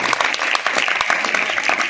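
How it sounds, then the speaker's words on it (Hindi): Students at a school prize distribution ceremony keep up loud, dense clapping for award winners. The applause is close and continuous for the whole stretch, with no voice breaking through. "आप भी तालियां बजाइए बॉयज"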